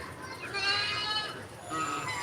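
A goat eating peanut shells gives a couple of nasal, wavering bleats, moderately close and fairly soft, set over faint background noise.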